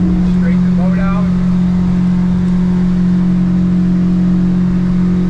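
A boat's outboard motor runs steadily while the hull planes at around 30 miles an hour against the current, a loud, constant droning engine hum with rushing water and wind noise, briefly under a voice.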